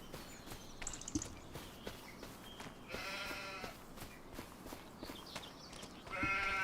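Sheep bleating in the Farming Simulator 25 video game, several calls rising over a steady farmyard background with occasional light footsteps, the longest bleats around the middle and the end.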